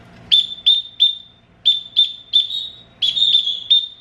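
Pet bird named Ligaya whistling in a series of short, clear, high-pitched notes, each sliding down slightly, repeated in quick groups with brief pauses, close and loud, mimicking a sound.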